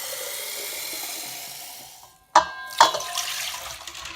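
Water poured into a mason jar holding cornstarch, a bright hissing trickle that fades, breaks off, then returns with two sharp splashing bursts and a settling fizz.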